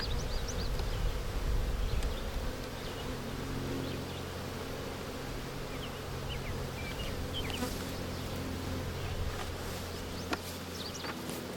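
Honey bees buzz continuously around an open hive being reworked into a double stack nuc, a dense, steady drone close by with occasional individual bees passing.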